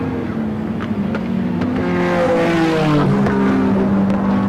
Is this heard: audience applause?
no